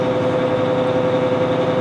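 A Grove GMK 4100L crane's engine drones steadily with a constant tonal hum as the throttle comes up, running evenly and fairly loud throughout, no clear rise in pitch.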